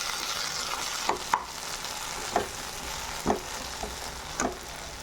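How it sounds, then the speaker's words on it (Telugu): Tomatoes cook down in a pan under a steady low sizzle, with a handful of sharp scraping stirs from a spoon spaced through the clip, close and moderately loud. "టమాటా వేసినాక ఇలా మగ్గాలి"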